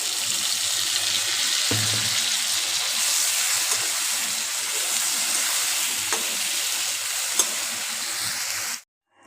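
Vegetable curry fries in a pan with a fresh spice paste of green chillies, giving a continuous, even sizzle and crackle close by that runs without pause before cutting off abruptly at the end.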